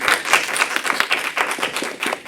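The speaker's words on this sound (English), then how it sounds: "Give him a round of applause" An audience claps in a round of applause at a sales training talk, dense and steady throughout with no voices over it.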